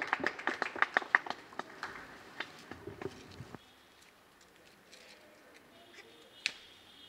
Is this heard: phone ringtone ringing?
no